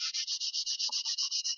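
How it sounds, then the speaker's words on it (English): Sandpaper of 120 grit rubbed over a glossy model house surface in quick, regular back-and-forth strokes, about a dozen even rasps, close and clear with no talking. "give it a good sanding"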